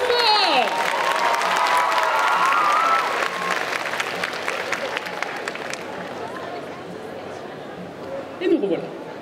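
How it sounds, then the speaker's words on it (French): A crowd at a cosplay parade applauds and cheers loudly with excited shouts, then the clapping fades into murmuring chatter and a brief burst of voices near the end. "Et on les applaudit encore! Plus fort!"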